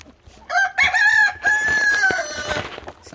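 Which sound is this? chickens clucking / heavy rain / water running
chickens clucking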